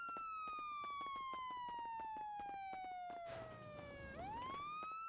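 Steady wailing police siren in a video game, gliding down in pitch then rising again, over a rapid regular clicking and a brief burst of noise.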